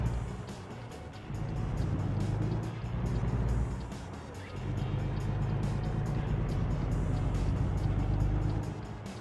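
Heavy truck engine in American Truck Simulator hauling an excavator load, a deep steady rumbling drone that rises as the rig pulls away and keeps running throughout, loud and close.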